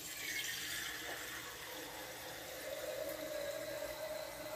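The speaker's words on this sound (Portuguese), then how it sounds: "Eu coloco a água aqui, ó." Water runs steadily into a pot for chamomile tea, a continuous faint splashing hiss whose pitch rises slowly as the pot fills, with no talking.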